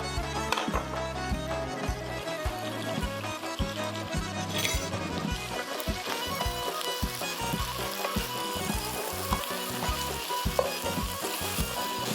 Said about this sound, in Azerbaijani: Toyuqla soğan, sarımsaq orada qızarana qədər